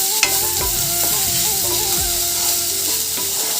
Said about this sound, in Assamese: এতিয়া মই গোটেইখিনি অলপ সময় মিডিয়াম ফ্লেমত এনেদৰে মিক্স কৰি ভাজিবলৈ দিম